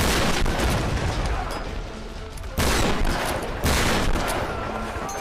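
Bursts of rapid gunfire from the Tomb Raider video game rattle loudly in dense volleys, easing briefly before two sharp renewed barrages.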